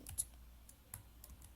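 A few soft, sparse key clicks on a computer keyboard while pressing Ctrl S to save an HTML file, faint and close, with no voices.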